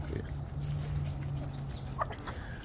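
Hens on a farm clucking in short, soft calls against a low steady hum, with faint other farmyard noise in the background.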